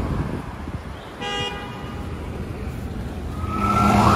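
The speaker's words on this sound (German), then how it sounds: "Hier kommt gerade die Feuerwehr." Fire engine moving through New York street traffic, a short loud horn blast early on followed by a rising wail from an approaching siren over a steady road-noise bed.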